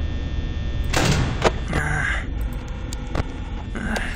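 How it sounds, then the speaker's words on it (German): Security door in the video game Five Nights at Freddy's: a heavy metallic slide and thud, followed by further clunks and an electrical hum, fairly close and clear, with a voice talking in the background. "Das heißt richtig, Tür zu."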